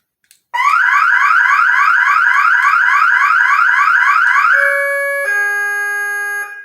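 A $37 home alarm system with two motion detectors blares a loud, rapidly warbling electronic siren close by, then switches to steady piercing tones, sounding alone with no talk.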